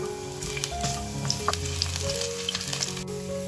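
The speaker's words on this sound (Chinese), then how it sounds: "把姜蒜先放进来炒香" Ginger and garlic fry in oil in a flat-bottomed pan, giving a steady, close sizzle with scattered crackles and pops throughout, under soft background music and with no talking.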